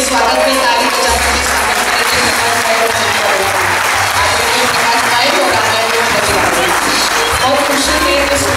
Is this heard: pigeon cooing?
no